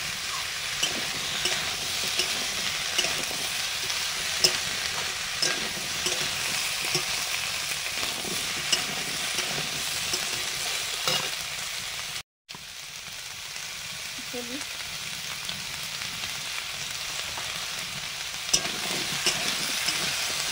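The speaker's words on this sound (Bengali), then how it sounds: "লোহার কড়াতে মাংস রান্না হবে" Meat stir-frying in an iron wok, a steady close sizzle and crackle with continual scraping as it is turned, unbroken except for a brief dropout midway.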